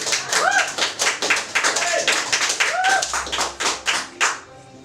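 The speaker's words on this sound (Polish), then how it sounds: "Brawa." Audience applause at a stage show staged as a mock business presentation: dense, steady clapping across the whole stretch, with whooping voices rising above it several times before it tapers off.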